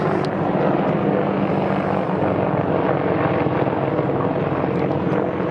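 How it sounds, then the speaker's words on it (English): An Apache helicopter drones loudly overhead, its steady thumping rotor roar filling the whole stretch without letup. "shout out to the Apache helicopter for totally ruining the sound on this"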